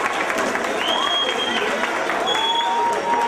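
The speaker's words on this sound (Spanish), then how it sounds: "Un aplauso." Applause from an audience at a university graduation ceremony, a steady wash of clapping and crowd noise running throughout, with brief whistle-like tones rising above it.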